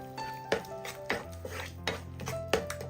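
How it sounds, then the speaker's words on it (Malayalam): Grated carrot and sugar are stirred in a pan with a utensil, producing a few distinct knocks and scrapes spaced about half a second apart, quiet and close, with a low hum underneath. "ഈ ക്യാരറ്റും പഞ്ചസാരയും ഒന്ന് മിക്സായി കിട്ടുന്നത് വരെ ഒന്ന് ഇളക്കി കൊടുക്കാം."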